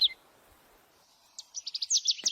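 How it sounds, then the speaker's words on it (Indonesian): Birds chirp near farm fields on a Merbabu mountain hiking trail, a quiet pause giving way to a quick series of bright, high tweets close by. "kami pun disuguhi pemandangan yang cukup cantik dengan beberapa kicauan burung yang berlalu lalang di sekitar ladang warga"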